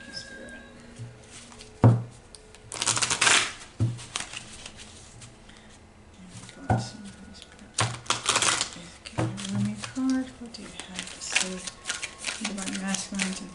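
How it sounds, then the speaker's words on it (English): Someone shuffles a deck of Rumi oracle cards, with crisp papery riffles and slaps in irregular bursts close by, and a person talking intermittently between and over the shuffling. "I'm going to pull a Rumi card right now before I start reading."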